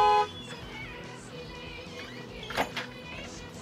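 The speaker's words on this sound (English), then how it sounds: "Alright, you guys can stop honking." Car horns honking from a group waiting to leave on a road trip, two short blasts in quick succession after a low, steady ambient hum.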